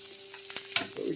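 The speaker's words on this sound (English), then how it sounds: "Let this side cook a little bit." Cajun cauliflower-crusted chicken sizzles in a frying pan, a soft crackle with a few brief scrapes or stirring touches over a faint steady hum.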